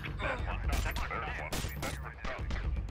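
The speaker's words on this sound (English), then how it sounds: "Oh, they're shooting each other." Rapid gunfire bursts in a Minecraft map, several sharp cracking shots in quick succession, loud and close, mixed with brief voice sounds.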